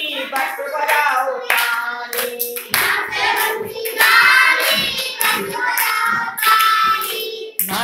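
Rhythmic hand clapping keeps time to a Hindi children's rhyme, bursts of claps alternating with sung lines, loud and close.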